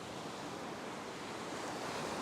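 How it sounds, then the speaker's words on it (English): Ocean surf breaks steadily onto a sand spit on a fishing beach, a dense continuous wash of waves with wind noise buffeting the microphone, loud and close. "in this area here you've got waves that are meeting in the middle"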